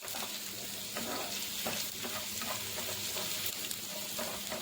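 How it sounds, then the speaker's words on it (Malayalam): Dried red chillies, curry leaves, garlic and shallots sauté in hot oil for a Kochi-style prawn chilli curry, giving a steady, close sizzle with soft stirring scrapes throughout. "ഇനി ഇതിലേക്ക് വറ്റൽമുളക്, കറിവേപ്പില, വെളുത്തുള്ളി, ചുവന്നുള്ളി എല്ലാം കൂടി ചേർത്ത് നന്നായിട്ടൊന്ന് വഴറ്റിയെടുക്കാം."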